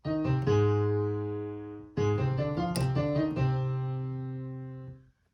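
A piano plays the FNAF melody quickly, a short run of bright notes in two phrases with ringing sustain, alone and fairly quiet, fading out at the end.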